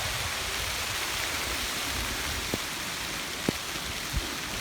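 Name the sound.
rain in a late September storm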